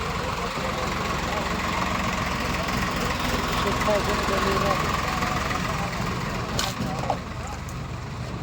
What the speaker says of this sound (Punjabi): ਡੈਲੀਗਾਂ ਦਾ ਟਰੈਕਟਰ ਆ ਗਿਆ ਜੀ